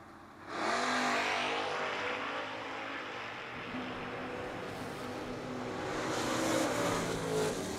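Footbrake drag racing hot rods launching side by side down a racetrack at a Thanksgiving event, a sudden loud roar that holds and swells as the cars pull away into the distance.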